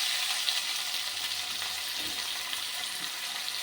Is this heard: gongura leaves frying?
yes